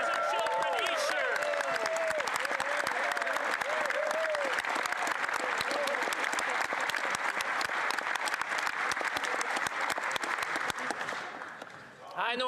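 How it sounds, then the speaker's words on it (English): Loud, sustained applause with cheering fills a parliamentary chamber during a federal budget address, continuous and dense for about eleven seconds before tapering off at the end. "even the conservatives are cheering"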